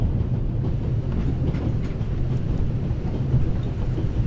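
A steam-era train runs on rails in the adventure game The Raven Remastered. The low, steady rumble and rolling clatter continue throughout, close and even, with no voices.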